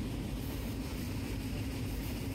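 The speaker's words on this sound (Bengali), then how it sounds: "আর এই হচ্ছে শব্দের অবস্থা, অর্থাৎ ট্রেন যখন চলছে তখনও অবস্থা।" Inside a moving Bangladeshi intercity train, a steady low rumbling roar of the running carriage fills the space evenly and quietly, with no voices.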